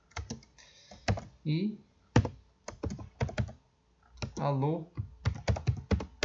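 Keystrokes on a computer keyboard while code is typed in the Delphi editor, quick bursts of clicky taps at close range, broken up by short stretches of someone speaking.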